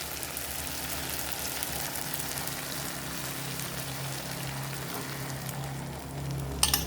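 An egg fries in a pan with corned beef and okra, a constant hissing sizzle that stays even throughout, close and moderately loud, ending with a brief clatter.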